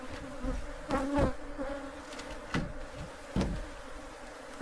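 Killer bees swarm around an old hive, their dense buzzing steady and close throughout, broken by a few sharp knocks and thumps.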